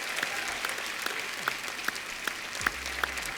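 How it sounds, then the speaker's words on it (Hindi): A studio audience on a television comedy show gives enthusiastic applause, a dense wash of clapping with sharper individual claps standing out at a fairly even pace. "चलिए एक बार डॉक्टर साहब के लिए जोरदार तालियां हो जाए।"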